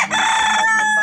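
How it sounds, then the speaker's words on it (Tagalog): Rooster crowing once, loud and close, a single sustained harmonic call. "May mga manok din siya dito."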